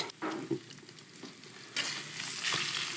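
Garlic cloves dropped into a hot pan beside a searing steak, with a crackling sizzle that swells into a loud, close, steady hiss, no voices.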